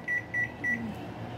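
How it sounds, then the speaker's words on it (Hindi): Three short, evenly spaced electronic beeps from a Samsung microwave oven as its buttons are pressed, fairly close and clear over faint room hum, with no talking. "माइक्रोवेव दबाएंगे, माइक्रोवेव 900 वाट सेलेक्ट करना है।"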